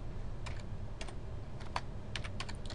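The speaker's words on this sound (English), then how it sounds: "I'm such a terrible typer, Auburn." A file name is typed on a computer keyboard in a spreadsheet program, heard as a few sparse clusters of quiet, close key clicks over a low steady background hum.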